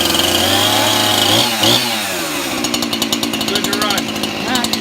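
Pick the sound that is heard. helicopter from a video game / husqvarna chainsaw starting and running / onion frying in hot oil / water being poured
husqvarna chainsaw starting and running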